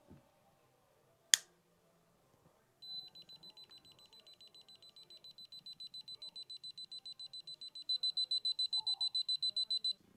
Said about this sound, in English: When the unit detects a gas leak, it'll rapidly give beeps.